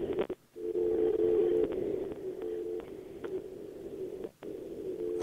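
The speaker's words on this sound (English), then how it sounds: "What was that dial tone thing?" A steady telephone dial tone hums over a phone line, broken by a few clicks and brief dropouts.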